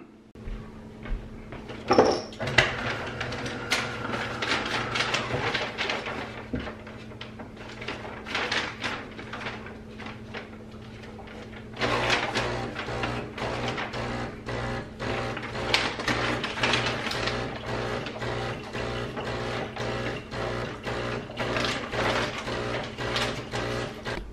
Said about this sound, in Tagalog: O, ready na ang coffee machine kasi mag-iinit pa yun ng kabonggahan.